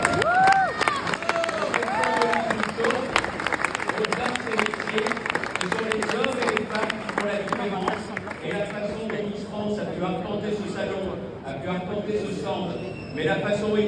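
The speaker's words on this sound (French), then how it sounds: "Je voudrais qu'on l'applaudisse aussi très fort." A crowd at the Paris agriculture fair applauds and cheers loudly for Miss France, dense clapping mixed with shouts and babble, fading slightly toward the end.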